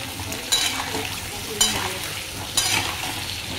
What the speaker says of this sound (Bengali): গরম তেলে আলুগুলো দিয়ে নিয়েছি, এর মধ্যে হলুদ ছড়িয়ে দিয়েছি